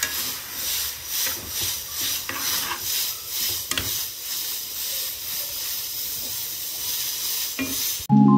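Meat frying in olive oil in a small home cooking pot, a loud continuous sizzle and hiss with rhythmic stirring swells and a clank of cookware at the end.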